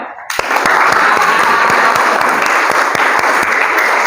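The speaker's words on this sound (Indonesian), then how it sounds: "Beri tepuk tangan yang meriah untuk kelompok 5 atas presentasinya." A classroom of students gives a group presentation a loud, vigorous round of applause, dense continuous clapping starting abruptly and holding steady for nearly four seconds with a few sharper individual claps.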